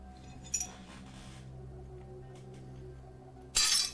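Glass shatters in two bursts, a brief sharp crack early on and a loud, bright crash with tinkling shards a few seconds later, separated by near silence.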